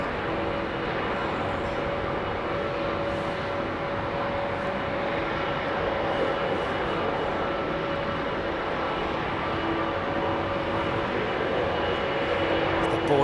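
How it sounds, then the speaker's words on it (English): A jet aircraft at London Heathrow Airport roars steadily for the whole stretch, a loud continuous engine rumble with broad noise and faint tonal whine, with no break or change. "Sweet sound of aviation."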